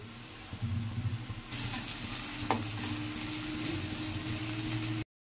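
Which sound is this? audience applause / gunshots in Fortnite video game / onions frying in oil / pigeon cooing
onions frying in oil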